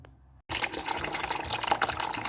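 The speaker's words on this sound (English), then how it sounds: "about a gallon of water came out before we got to some oil" After a brief quiet moment, water suddenly gushes and splashes steadily out of a Ford Windsor V8 engine during teardown, a loud continuous pouring and draining with no talking.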